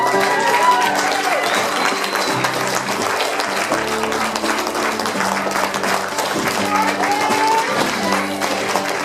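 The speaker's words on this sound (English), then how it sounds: "Let's give them all a round of applause." Guests at a wedding ceremony keep up a full, even round of applause for the newly married couple, sustained throughout with a low tonal hum running underneath.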